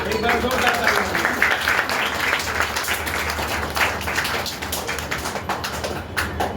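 Audience at a theatre studio applauding loudly after a children's play, thick continuous clapping with sharp individual claps standing out, sustained for several seconds with some voices mixed in.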